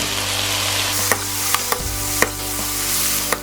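Vegetables sizzle loudly and steadily in a pan as teriyaki sauce is added, with several sharp clicks of a utensil stirring against the pan.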